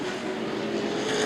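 Late model sportsman stock cars roaring around Anderson Speedway during the CRA Season Opener 75, a loud continuous engine drone close by with no voices.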